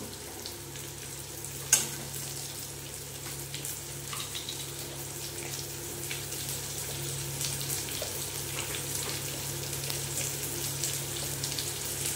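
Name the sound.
pointed gourd frying with spices in a pan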